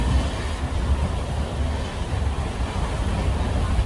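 An Amrit Bharat Express sleeper coach rolls along steadily on its way to Katpadi Junction, with a continuous low rumble and rattle of the running train and no voices.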